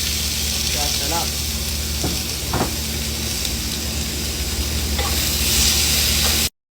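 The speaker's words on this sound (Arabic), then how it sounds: "حمس الثوم شوي لين يشقر، بعدها تحط البصل." Garlic, onion and spices frying in hot oil in a pan while cooking Adeni zurbian, a steady close sizzle with occasional stirring scrapes, running continuously until it cuts off abruptly.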